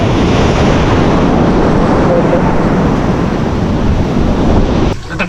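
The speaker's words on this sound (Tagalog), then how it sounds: "Kaya lang, kaya malaki na alon." Big ocean waves surge and roar continuously at close range, with loud wind buffeting the microphone throughout, the rumble easing slightly in the final half second.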